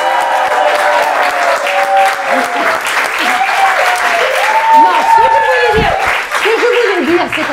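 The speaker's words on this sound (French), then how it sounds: "Donc, on va refaire une salve d'applaudissements," Sustained applause from a studio audience at a live French talk show taping, loud and continuous throughout, with scattered voices and cheers mixed into the clapping.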